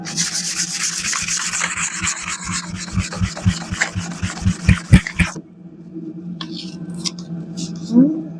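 A brick hammer is sanded by hand with 220-grit sandpaper, producing close, scratchy rubbing strokes that speed into rapid bursts for about five seconds, then stop, leaving faint handling noises.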